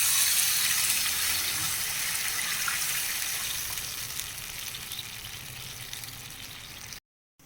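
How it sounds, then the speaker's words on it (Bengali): Water is poured into a pan of fried spice paste for a katla fish curry. A loud, steady hiss and gush of liquid hitting hot masala slowly fades, then cuts off abruptly near the end with no speech. "মশলা কষানো হয়ে গেছে, আমি এখন জল দিয়ে দেবো।"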